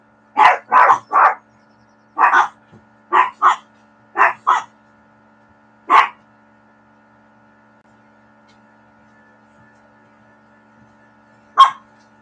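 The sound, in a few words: dogs barking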